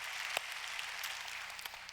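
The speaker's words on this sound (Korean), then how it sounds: "우리 좋으신 하나님께 다시 한번 박수로 감사하겠습니다." A church congregation applauding in thanks during a Korean Sunday service, a dense, steady patter of many hands clapping at moderate volume, a few sharper claps standing out.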